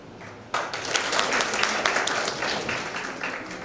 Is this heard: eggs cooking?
no